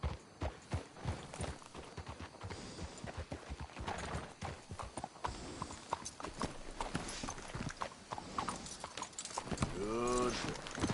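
Horses clip-clopping in Red Dead Redemption 2, a dense run of hoofbeats at a trot that keeps going throughout, with a short whinny near the end.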